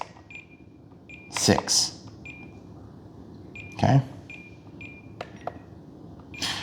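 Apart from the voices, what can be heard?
radio transmitter alarm beeping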